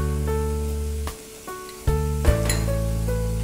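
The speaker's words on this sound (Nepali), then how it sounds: "यति भयो हाम्रो मसला हालेर हामी अब भुट्छौँ यसलाई" Spices including chili powder and cumin powder sizzling in a pan, a steady loud frying hiss throughout that briefly dips, then returns with a couple of clattering stirs against the pan over a constant hum.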